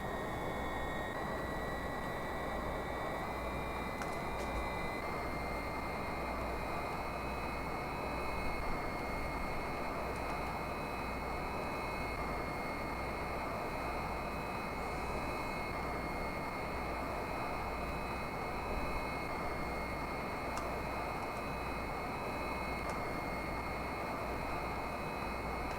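Boeing 747-200 in UPS livery taking off from New York JFK in Flight Simulator 4, a steady faint jet engine roar with a whining tone that holds throughout, no talk.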